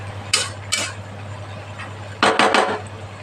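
A lid settling onto a cooking pot of dal boras in a Bengali kitchen, with two light clinks, then a quick cluster of three metallic taps over a steady low hum.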